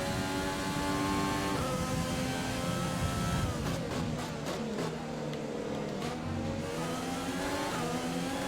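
An F1 car engine in the racing video game F1 2020 screams at high revs, with rising and falling pitch as it shifts through gears. The whine stays continuous and loud.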